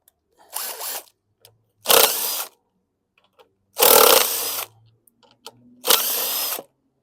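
DeWalt power drill driving a 1/4-inch socket on a 2009 Lawn-Boy rear-wheel-drive mower, heard in four close, loud bursts of whirring with short quiet gaps between them, no talk.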